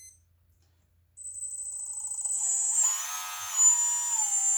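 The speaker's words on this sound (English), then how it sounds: "You'll hear the ESC beep." Electronic speed controller on an RC hydraulic forklift powering up, giving high-pitched electronic beeping tones that start after a brief quiet and continue steadily, close and fairly loud.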